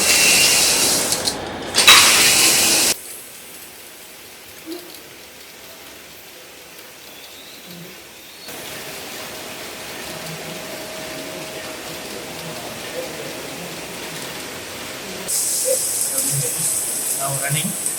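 A single jersey knitting machine, started with a green button and a lever, gives off a rhythmic ratcheting mechanical clatter. Loud bursts come at the start and the end, with a quieter, steadier whir running in between.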